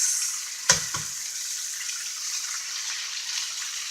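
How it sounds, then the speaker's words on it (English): Two large eggs drop into a pan of frying pinto beans, a brief splatty burst near the start followed by a steady close sizzle and crackle with no talk. "now at this point I'm going to add 2 large eggs"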